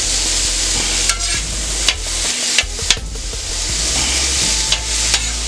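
Seasoned steak meat sizzles steadily on a Steelmadeusa grill for a Philly cheesesteak, a loud continuous hiss broken by several sharp scrapes and clanks of a spatula against the hot steel.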